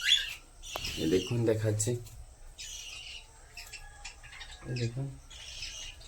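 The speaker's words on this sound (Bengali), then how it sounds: "এই দেখো জাভা পাখিগুলো খাচ্ছে। দুটো কোকাটেল নামিয়ে উপরে বসে আছে ওরা।" Pet Java sparrows, cockatiels and budgerigars chirp and squawk in short, scattered calls while they eat leafy greens nearby, with a person speaking between the calls.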